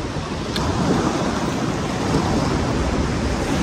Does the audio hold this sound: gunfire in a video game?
no